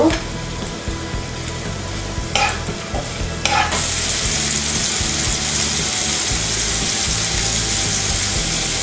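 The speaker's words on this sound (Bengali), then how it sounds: "এবার তেলের মধ্যে আমি পেঁয়াজ কুচিগুলো দিয়ে দিব" Chopped onion, green chilli and tomato frying in oil in a frying pan, a loud close sizzle that surges and intensifies partway through after a couple of clattering stirs, with faint music beneath.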